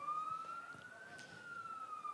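A fire truck siren wails on McMillans Road near Larrakia Park, a single long rising-and-falling tone that stays faint and distant in the background.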